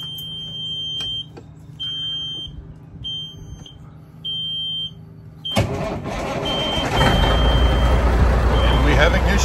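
Kenworth truck engine cranking and firing up in a yard after battery trouble, with alarm-like beeps sounding in bursts before the engine catches and roars loudly for the rest of the clip.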